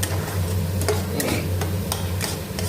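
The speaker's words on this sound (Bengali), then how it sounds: "পেঁয়াজ বাটাটা ভালো করে ভেজে নিতে হবে।" Onion paste frying in hot oil with cloves and cardamom for a Bengali doi katla fish curry, a soft continuous sizzle broken by scattered clicks and taps of a spatula stirring against the pan, heard close with a low hum underneath.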